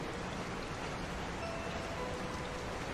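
Steady rain pours down in a continuous, even hiss with no breaks, serving as the stormy-night backdrop of a cartoon horror story.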